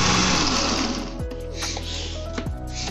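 A kitchen blender whirs steadily as it beats cheese bread cake batter with grated cheese, a loud continuous motor hum with slight shifts in pitch as the mix churns.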